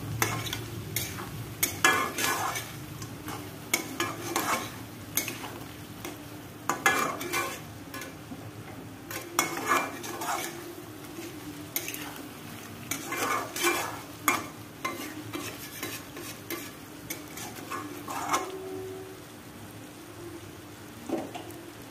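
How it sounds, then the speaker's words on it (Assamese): Duck meat being stirred with masala in a pan: repeated scraping strokes of a spoon against the pan over a low sizzle, an uneven rhythm of bursts, close and fairly quiet, with no talk. "এইখিনি এতিয়া মই ভালদৰে লৰাই গোটেই মছলাখিনি সানি ল'ম মাংসখিনি"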